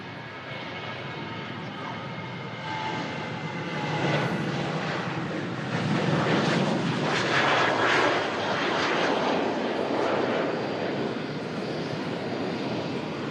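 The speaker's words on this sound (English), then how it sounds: "Aircraft on the roll is the ETF Airways 737, currently leased by Jet2" An ETF Airways Boeing 737, leased by Jet2, rolls for takeoff at Manchester Airport, a steady broadband jet roar swelling gradually and holding loud across the runway, with faint voices in the background.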